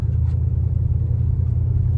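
A 1973 Cadillac Fleetwood with 18,457 original miles rolls along, heard from inside as a steady low engine and road rumble, smooth and unbroken for the whole moment.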